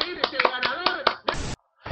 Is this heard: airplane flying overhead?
no